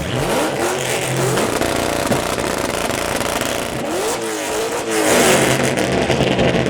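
A Ford Mustang with a 3-valve V8 revs loudly at a large outdoor Mustang car show, with repeated rising and falling engine bursts close by and crowd noise behind; no speech.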